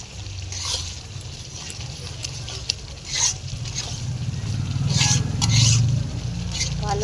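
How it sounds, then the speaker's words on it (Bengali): A garlicky spice paste sautéed in oil in a pan gives a close sizzle with stirring scrapes, swelling somewhat louder in the latter half. "ভালো করে মশলাটাকে কষে নিই"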